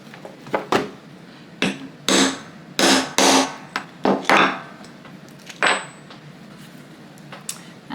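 A hammer repeatedly taps an eyelet setting tool to set an eyelet in fabric for a sewn hat, with about a dozen crisp, close, irregularly spaced knocks of varying force and no talking.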